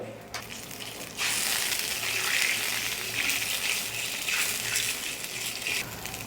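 One and a half glasses of water poured into a pan holding finely chopped green chillies: a steady, loud gushing hiss that starts after a short quiet moment and keeps going to the end.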